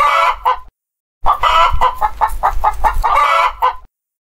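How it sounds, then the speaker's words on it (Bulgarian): A chicken clucks in quick bursts, a short pair of notes, a pause, then a longer run of rhythmic clucks that end abruptly, close and loud. "Кокошката казва..."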